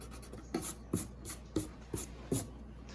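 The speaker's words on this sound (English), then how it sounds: "I can take my eraser and I can erase" Rhythmic strokes of an eraser rubbing across paper while drawing a Celtic knot, five or six evenly spaced back-and-forth scrubs, close and fairly quiet, with no talk.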